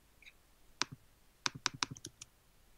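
Computer mouse clicking close and quiet, a single click followed by a quick run of several sharp clicks, with no talk.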